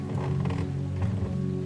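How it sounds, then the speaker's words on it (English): Wooden boat deck creaking softly where it presses against mooring rope at a waterside dock, a few slow, faint groaning creaks over a steady low rumble. "Wood against rope. A soft creak."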